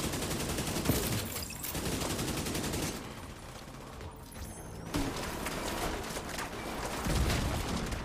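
Grenade launcher fire and dense gunfire in the video game Division 2, a continuous loud barrage with repeated bursts and a few heavier booms, near and sustained throughout.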